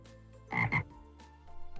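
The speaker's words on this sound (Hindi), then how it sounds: "अचानक वहाँ एक मेंढक आया।" A cartoon frog croaks twice in quick succession, a short low double croak that is fairly close and clear over a quiet background with faint tonal music underneath.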